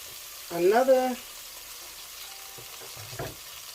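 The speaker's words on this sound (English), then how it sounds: "So you want to put the garlic in here by itself into, you know, fragrance." Garlic sizzles in olive oil on its own, a faint, steady hiss running under a couple of short, louder vocal sounds near the start and end.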